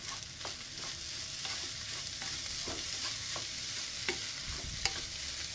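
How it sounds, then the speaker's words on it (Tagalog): Fried rice (chahang) being stir-fried in a pan, steady sizzling under repeated scraping strokes of a spatula, close and continuous. "Itong niluluto ko guys na fried rice"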